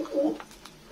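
Pigeons coo softly at a home loft, a short low burst at the start followed by fainter calls, close by.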